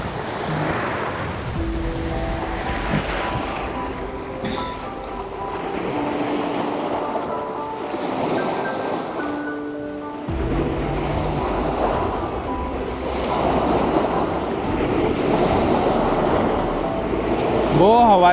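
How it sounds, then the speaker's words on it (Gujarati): Very high waves surge steadily along the Tapi river shore under strong gusting wind. The roar is loud and close and continuous throughout. "બહુ ઊંચા ઊંચા મોજા ઉછળે છે."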